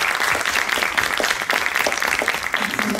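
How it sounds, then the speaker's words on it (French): An audience at an outdoor Breton festival competition applauds: continuous, moderately quiet clapping from many hands with a steady, even texture throughout. "merci d'applaudir du coup"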